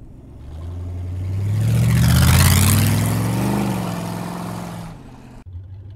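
A 1930 Ford 5 Window Coupe street rod drives past, its engine note swelling from a steady rumble to a loud, close roar with revving before cutting off, with no talking.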